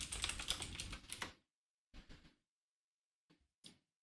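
Fast typing on a computer keyboard, a dense run of clicking keystrokes followed by short separate bursts with silent gaps between them, close and fairly quiet.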